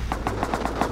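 Automatic gunfire in the survival video game Rust comes as a rapid, evenly spaced burst of about six loud shots within one second.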